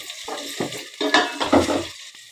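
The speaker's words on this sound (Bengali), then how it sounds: "আমি আলুটাকে একটু ভেজে নিচ্ছি পেঁয়াজের সাথে" Potatoes and onions are fried and stirred in a pot for chickpea biryani, giving a few close, loud scrapes and clinks of a spoon over a bright continuous sizzle.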